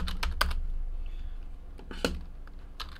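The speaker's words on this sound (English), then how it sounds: "let's type in the hits" Typing on a computer keyboard while looking up football trading card hits, with a few distinct, close clacks of the keys at irregular moments over a faint steady background hum.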